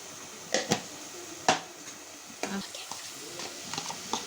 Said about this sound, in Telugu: ఇప్పుడైతే టమాటా పేస్ట్ వేసుకుంటున్నాను ఒకసారి అయితే ఇది కలిపేసుకుందాం